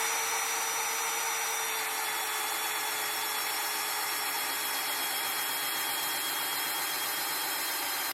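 An electric drill spins the shaft of a homemade hydroelectric dynamometer, giving a constant, loud high-pitched whine with rubbing, wobbling mechanical noise throughout.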